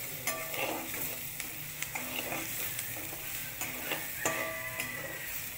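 Chopped onion frying in a pan for egg bhurji, a steady close sizzle with repeated light clicks of a spoon stirring against the pan, no voices.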